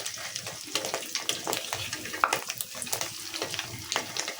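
Katla fish roe fries in a pan, a close bubbling sizzle with irregular spits, pops and light stirring scrapes recurring through the few seconds, no voices over it.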